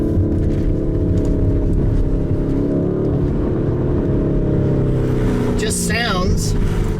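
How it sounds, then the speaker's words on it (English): A 2019 Lamborghini Urus SUV with a twin-turbo V8 rated at 650 horsepower revs loudly up close, with a deep continuous engine roar that climbs in pitch near the end. "This has a twin turbo V8 with 650 horsepower."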